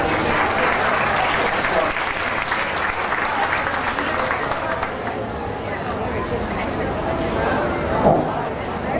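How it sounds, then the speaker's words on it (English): A crowd at a county fair queen and king pageant claps in a steady round of applause, with chatter and voices mixed in as the clapping thins toward the end. "Let's give them a round of applause"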